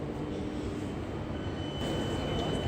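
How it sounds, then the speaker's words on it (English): A London Underground Victoria line train rumbles steadily throughout, a dense continuous low roar with a faint high whine layered on top, loud and close as if riding on board. "Hello to the only Victoria line train that I'm using in this video."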